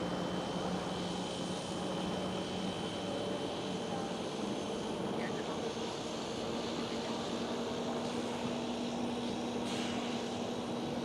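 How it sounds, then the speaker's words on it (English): Etihad Cargo Boeing 777 lining up on a runway at Amsterdam Schiphol, its jet engines giving a steady, distant rumble and whine that holds level throughout. "Etihad Cargo 777 is the next one to line up."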